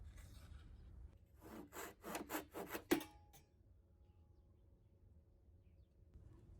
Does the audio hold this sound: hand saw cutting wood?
yes